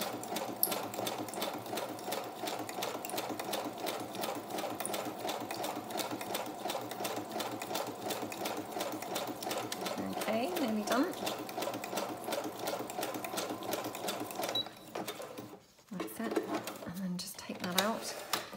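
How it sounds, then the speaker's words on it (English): A sewing machine stitches down the side of a fabric snippet strip with a continuous, even needle rattle, close and steady for most of the stretch before briefly stopping and restarting at the end. "So I just then stitch down this side."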